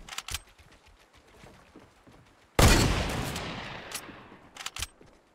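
Gunfire in the Fortnite Battle Royale video game: a few sharp single shots, then a loud burst of rapid fire that slowly fades, followed by more isolated cracks.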